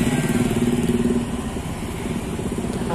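Motorcycles crowd a narrow one-lane street, and their engines make a close, continuous, buzzing rumble that pulses slightly as they pass, with no speech.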